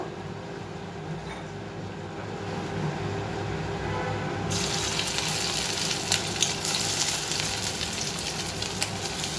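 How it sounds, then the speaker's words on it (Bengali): Marinated chicken fritters for a mushroom chicken fry frying in hot oil, a steady low sizzle that swells into a loud, bright, crackling hiss partway through and keeps spitting to the end. "এবার আমি তেলেতে বড়াগুলো সব ভেজে নেব।"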